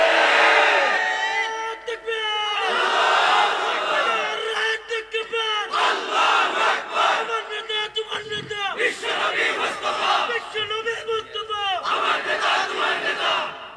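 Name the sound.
crowd chanting the slogan 'amar neta tomar neta bishwanobi mustafa'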